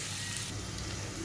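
Vegetables sizzle steadily in a pan for jhal suji, a close, continuous frying hiss without any other distinct sounds.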